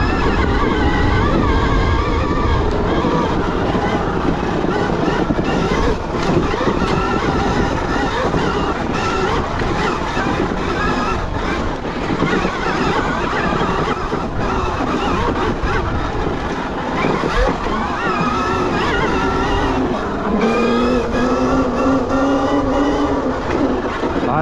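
Surron Storm Bee electric motorbike ridden on an enduro trail, a steady whining motor hum with wind and rumbling terrain noise, rising and falling as the rider works through technical ground.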